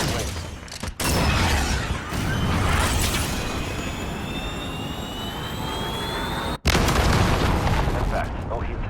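Cruise missile strike in the Modern Warfare video game on a sawmill map, a sustained loud roaring boom with jet-like rumble and rising whistling tones, broken by two sharp dropouts, with voices talking over it.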